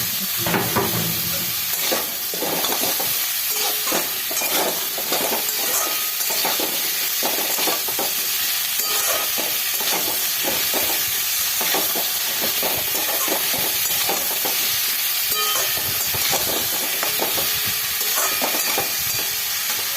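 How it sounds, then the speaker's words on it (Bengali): Bottle gourd stirred with salt in a hot frying pan, a constant loud sizzle and hiss under repeated spatula scrapes, close and continuous. "লাউ দিয়ে এখানে নুন দিয়ে দিচ্ছি লাউটাকে ভালো করে মিশিয়ে নিচ্ছি"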